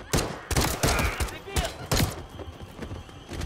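Gunfire from the video game Modern Warfare III, with loud, close bursts of rapid shots in uneven volleys that give way to a quieter stretch of scattered, softer shots.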